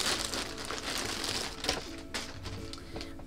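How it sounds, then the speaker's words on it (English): A shirt is pulled from its plastic wrapping, the film crinkling and rustling in a steady close run of crackles with one sharper crunch partway through. "let me just get it out of the plastic so you guys can see it better"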